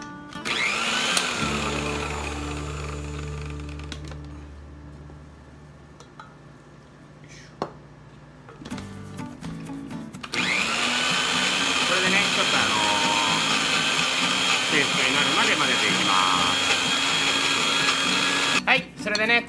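A blender whirs as it grinds massaman curry paste with a splash of water, starting in short bursts under a quiet voice, then running loud and steady for the second half.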